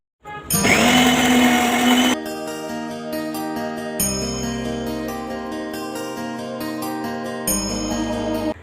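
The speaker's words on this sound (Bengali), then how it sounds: "ডাল একদম মানে মিক্সিতে করে রেডি করে রাখলাম" A kitchen mixer grinder whirs loudly and steadily as it grinds moong dal, starting with a harsh, high whine and then settling into a steady motor drone with brief changes in pitch, with no voices.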